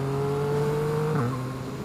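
A Yamaha MT-09 motorcycle ridden on a road at dusk, a steady engine drone holding pitch, then dropping as the rider shifts or eases off.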